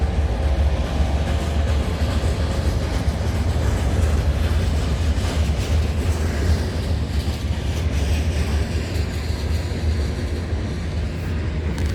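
A CN freight train rolls past at night, a steady loud roar of wheels and railcars with faint rhythmic clatter continuing unbroken throughout.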